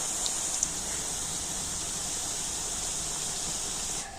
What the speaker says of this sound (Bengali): যেহেতু একটু বেশি পরিমাণে তেল দিয়েছিলাম সেই জন্য সমস্ত পিঠেগুলো আমি একেবারে ভেজে নিচ্ছি